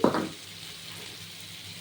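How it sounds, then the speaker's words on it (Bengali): Pumpkin frying with turmeric in a covered pan for a prawn-head pumpkin ghanta: a brief clatter of the lid or spoon at the start, then a soft, even sizzle that carries on quietly alone. "আস্তে আস্তে এটা ঢেকে ঢেকে ভাজা হবে"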